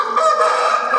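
A young fighting rooster calls out once in a loud, close, hoarse cry that holds steady for about a second, with no talking over it.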